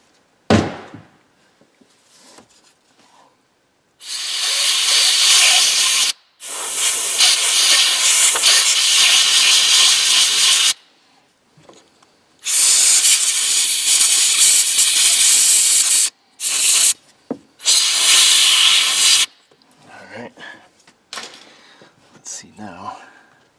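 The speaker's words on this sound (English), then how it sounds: "Maybe you can make your can spray upside down." An aerosol spray can, used while working on a Ford Escape engine, hisses in several long loud bursts separated by short pauses and brief clicks, with a few quiet sounds in between.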